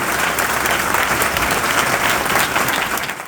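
A church congregation at a Hindi-language sermon claps loudly and continuously, a dense, even wash of many hands close by that fades slightly at the end, with no speech over it.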